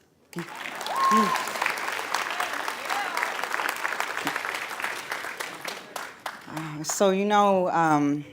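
A crowd at a Black Lives Matter talk breaks into applause and cheers for several seconds, loud and full, before a speaker's voice returns near the end with a few whoops around it.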